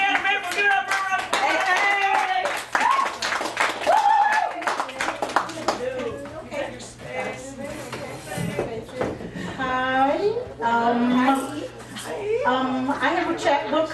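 Audience applause at a poetry open mic at the Cafe Gallery, a burst of clapping at the start that fades under a host's voice speaking.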